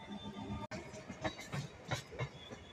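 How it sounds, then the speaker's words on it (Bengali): A train passing in front near Princep Ghat, heard from a distance as a low rolling rumble with rhythmic wheel clatter pulsing every few tenths of a second, steady and moderately faint. "ট্রেন যাচ্ছে সামনে"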